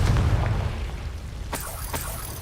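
The Confringo explosive spell from Hogwarts Legacy lands with a booming blast at the start, followed by a couple of sharper cracking bursts, with no talking.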